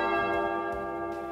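A church bell rung by the sacristan during a novena service sounds out as a sustained ringing tone with a long resonant decay, steady and fairly close.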